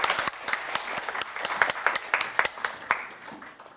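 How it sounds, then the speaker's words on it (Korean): An audience at a ceremony marking the anniversary of the abolition of Korea's family-head system claps to welcome a speaker, a brisk burst of separate hand claps that rises, then thins and fades. "큰 박수로 맞이해 주시기 바랍니다"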